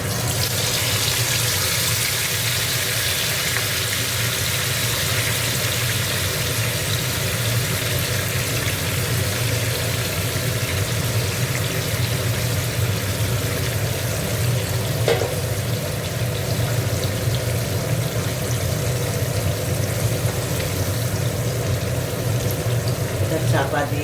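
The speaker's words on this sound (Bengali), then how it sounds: "এবার দেখো এই চিকেনটা ঢেলে দেবো এর মধ্যে।" Chicken frying in a pan for a chicken chaap recipe, a steady dense sizzle close by that holds evenly throughout, with a faint clink or two near the middle.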